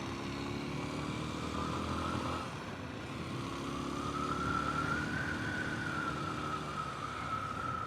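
A Kawasaki KLX230S motorcycle engine drones while riding, its pitch sliding upward and easing as it climbs through the gears, heard fairly faint and steady without speech.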